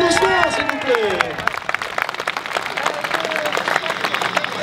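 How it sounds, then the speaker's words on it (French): A crowd at a French timbersports championship in Bessans claps and cheers for the winning competitor, dense applause close and steady after a brief announcer's voice at the start. "Applaudissements s'il vous plaît."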